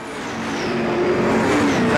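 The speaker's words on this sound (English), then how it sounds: "now we're on board with the 35 truck, Randall King" A racing truck at the Fontana track roars loud and close from on board, its engine note climbing steadily as it drives through a turn.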